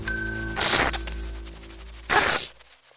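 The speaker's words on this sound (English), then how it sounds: "Ring the bell." A struck bell rings out in two loud, bright bursts with a lingering metallic tone and low hum between them, heard alone without any voices.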